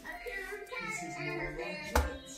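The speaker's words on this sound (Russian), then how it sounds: "Хлоп-хлоп." A single sharp hand clap rings out near the end, close and short, following soft voices of a mother and a small child at home.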